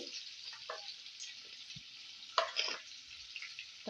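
Tomato and curry leaves sauté in a pan for butter bean masala, a soft, quiet sizzle broken by a few light stirring scrapes and small clinks close by.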